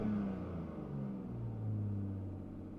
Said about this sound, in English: Revs up fine.